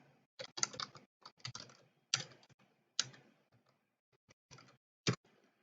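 Bursts of typing on a computer keyboard as a netcat reverse-shell command is entered during a capture-the-flag pentest, with quick clusters of close, crisp key clicks separated by short pauses, no talking.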